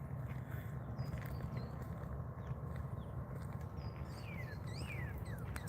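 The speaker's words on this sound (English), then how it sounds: "Hear nothing but birds." Birds sing outdoors in a quiet parking area, with scattered short chirps and rising whistles heard at a moderate distance over a steady low rumble of background noise, becoming busier toward the end.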